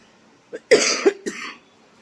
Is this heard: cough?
yes